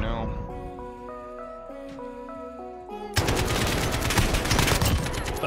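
Bursts of AK rifle fire from the Warzone battle-royale shooter rip in loud and dense after a stretch of in-game music, sustained rapid automatic shots filling the rest of the clip.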